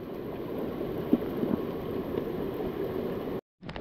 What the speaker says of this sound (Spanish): se vino la lluvia fuerte, fuerte